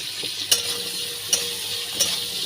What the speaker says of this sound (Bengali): হলুদ আর লবণ দিয়ে আমি উচ্ছেটাকে ভেজে নেব।